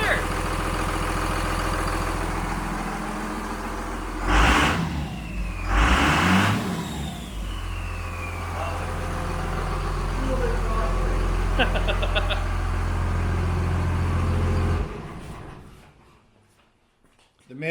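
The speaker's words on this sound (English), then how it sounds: "That does not sound like a Chevy" A Cummins diesel swapped into an old-body-style Chevy pickup with dual exhaust runs steadily up close, with a couple of loud revs early on. A voice talks over it before the sound cuts off abruptly near the end.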